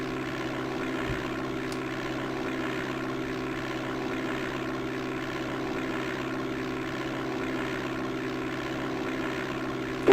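A propeller airplane engine in the DOS flight game Flight Simulator 5.1 on the runway at Red Wing, Minnesota, ready for takeoff: a steady, even droning hum that holds unchanged throughout.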